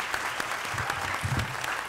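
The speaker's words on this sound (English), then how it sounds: "They deserve a big round of applause." Applause from the audience at a city council reorganization meeting in Linden, New Jersey, honoring the legislative delegation: steady, moderately loud clapping from a room of people with some low murmuring under it.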